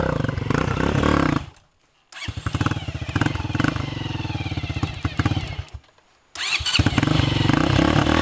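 Dirt bike motorcycle on a dirt trail, roaring loudly and close as it revs and accelerates, its engine dropping out twice briefly before surging back with a rough, pulsing growl.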